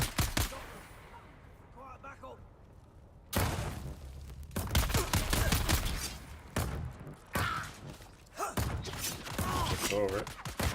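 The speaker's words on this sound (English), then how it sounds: "Gonna pull up the turret for this one." Turret gunfire rattles in the video game Dune: Awakening as rapid bursts of shots and impacts. The bursts recur through the clip, mixed with game effects and a player talking over the action.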